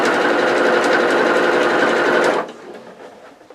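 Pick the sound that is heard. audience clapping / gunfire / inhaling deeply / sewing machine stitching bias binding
sewing machine stitching bias binding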